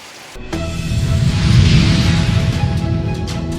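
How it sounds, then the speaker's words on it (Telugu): Heavy rain with thunder, a dense roaring downpour that swells after a sudden onset and stays loud and steady throughout, with a low rumbling undertone. "తెల్లవారుజాము నుంచి ఉరుములు మెరుపులతో భారీ వర్షం కురిసింది"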